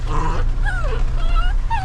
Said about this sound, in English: The dog's not enjoying the bushes on the truck, but she never does.